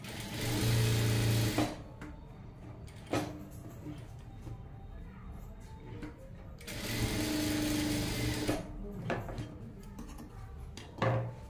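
A sewing machine stitches tucks into fabric in two loud bursts of fast, rhythmic whirring, separated by a quieter stretch of handling noise, with a short clatter at the end.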